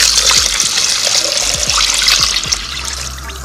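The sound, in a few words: water poured into Instant Pot for black bean stew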